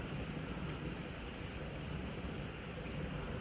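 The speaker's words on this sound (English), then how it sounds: "There goes the wind." Severe thunderstorm wind gusts of up to 70 mph in Frisco, Texas, heard from indoors as a faint, steady broadband roar with no clear breaks.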